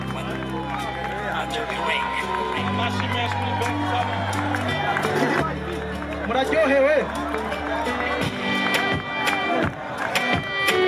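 An audience at the Izera Award ceremony claps and cheers for a group, a continuous crowd roar over loud stage music while an announcer speaks.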